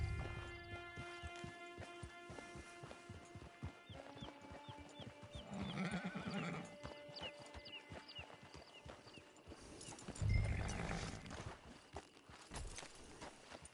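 Horse hooves in a PS4 video game, a quiet steady clip-clop rhythm under a layer of game music, with a louder thump near the end.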